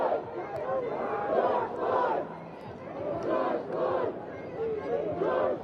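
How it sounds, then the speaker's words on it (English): Protest crowd in Washington DC, loud rhythmic chanting and shouting in repeated bursts about once a second, with a constant murmur of voices between the chants. "sometimes I can't hear as well in this crowd"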